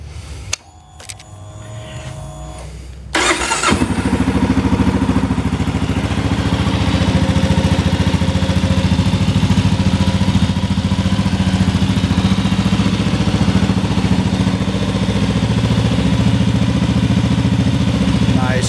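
A 2022 Kawasaki KLR 650 Adventure motorcycle cranks over, catches with a sudden jump in loudness and settles into a steady, loud single-cylinder idle that holds close and unbroken.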